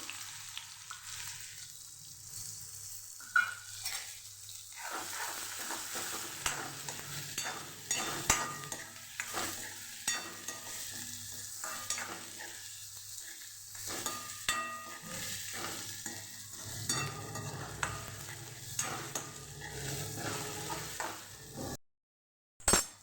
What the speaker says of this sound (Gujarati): ડુંગળીને સરસ સાતળી લઈશું